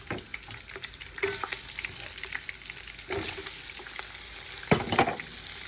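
Small onions fry in hot oil for ginger fried rice, a steady crackling sizzle broken by several louder bursts of stirring and spatula scrapes, close and alone without talk.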